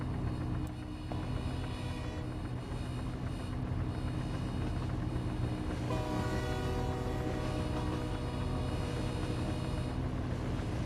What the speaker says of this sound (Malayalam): ട്രെയിൻ വരണേ മുത്തേ.